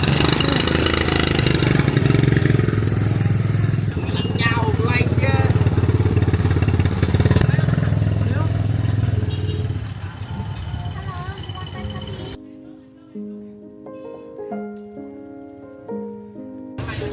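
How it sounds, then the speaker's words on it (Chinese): A motorcycle towing a house-shaped food stall cart through a street market in Hoi An, central Vietnam; a steady engine rumble runs under crowd chatter and voices, then fades out and music follows. "摩托车拖着一个像房子一样的小摊。"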